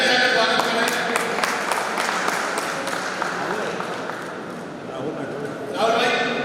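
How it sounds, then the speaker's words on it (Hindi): Audience applause welcoming a guest onto the stage at a Congress party gathering in Pithampur, a steady dense clapping that holds loud throughout, briefly dipping then swelling again near the end. "तालियां बजाकर स्वागत करें"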